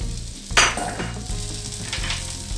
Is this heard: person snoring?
no